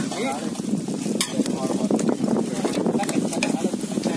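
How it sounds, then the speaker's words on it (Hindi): Chicken frying in butter on a rustic clay stove outdoors, a steady close sizzle with stirring clatter running throughout, with voices talking over it. "और एक चिकन हमारा पूरा बटर में फ्राई हो रहा अच्छे से।"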